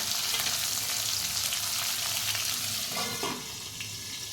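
Bitter gourd sizzles steadily in a frying pan, a dense broadband hiss with a few louder spatula scrapes as it is stirred, close and continuous, no voices.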